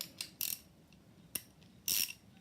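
Nuts on the connecting rods of a Honda CB550 engine being nipped up, giving a few short, sharp metallic clicks and ratcheting bursts, close and fairly quiet, with brief pauses between them and no talking.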